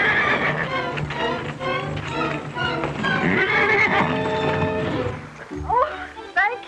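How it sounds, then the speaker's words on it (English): A horse whinnies in a loud, drawn-out neigh that climbs and then trails off. Hooves clip-clop nearby, and people talk over part of it. "That horse is wild."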